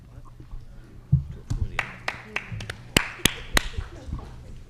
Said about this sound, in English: Oh, there is clapping.